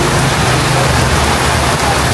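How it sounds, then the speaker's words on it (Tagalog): Heavy typhoon rain pours steadily on Boracay Island during Typhoon Crising, a loud, dense, unbroken hiss that fills the whole clip with no voices. "lumakas na naman yung ulan."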